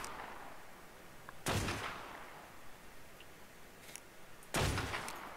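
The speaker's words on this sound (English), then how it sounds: "I'm shooting at the scorpion for you." Gunfire at a scorpion in ARK Survival Evolved, two separate loud booming shots a few seconds apart, each with a short fading tail over a quiet background hiss.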